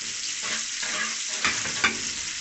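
Chopped coconut sizzles and fries in ghee for panjiri, with a soft continuous crackle and a couple of brief scraping stirs of a spoon in the pan, close and alone.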